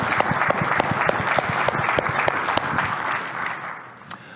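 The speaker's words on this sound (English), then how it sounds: "let's give a round of applause for all of the developers and everyone who's worked hard to get it to that point" Conference audience at OpenTofu opening remarks claps for the developers, a steady burst of applause with distinct individual claps that thins out and fades toward the end.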